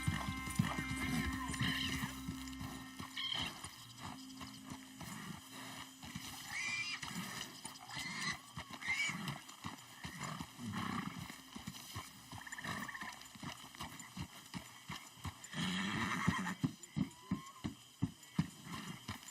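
A horse in Red Dead Redemption 2 whinnies loudly at the start, followed by a long run of clip-clopping hooves with further snorts and neighs, while a voice talks at times.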